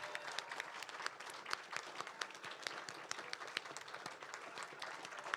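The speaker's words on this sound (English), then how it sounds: "let's give another round of applause for all the participants one more time" Audience applause for cosplay showcase participants at Summer Games Done Quick, steady clapping from a crowd, sustained and moderately distant.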